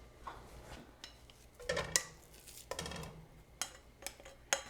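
Sausage dropped into a pan on a medium burner, with clanks of metal and utensil, a brief sizzle burst and scattered clicks, close and fairly quiet, no talking.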